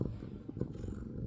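A cat purrs close by in a steady low rumble that carries without a break from start to finish, with no other sounds over it.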